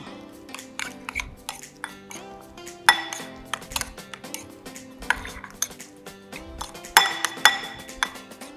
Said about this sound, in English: Now I mix on everything together